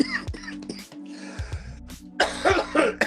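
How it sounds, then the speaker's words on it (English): Several harsh coughs and throat-clearing bursts from one person, close and fairly loud, broken by short pauses, with a brief stretch of sound at the start. "I might start coughing a lot"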